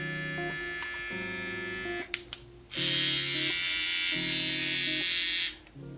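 A Kemei 1974B hair clipper, brand new, buzzes with a steady bright electric whir for about three seconds after some quieter tonal sounds and a couple of clicks, then cuts off.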